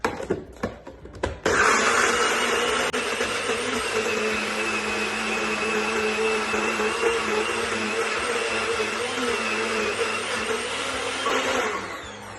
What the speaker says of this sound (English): we're gonna puree this, check seasoning